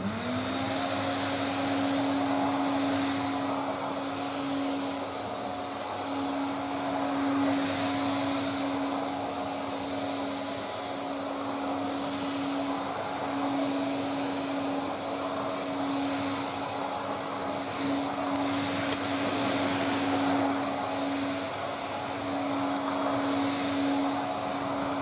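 A 1970 Ocean Green Hoover Constellation 867A canister vacuum cleaner runs steadily, a close, continuous whirring motor drone with a steady tonal hum and airy hiss that swells slightly now and then.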